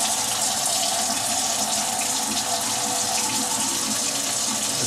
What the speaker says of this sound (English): once it starts going, the coffee starts spurting out the sides. You'll start hearing it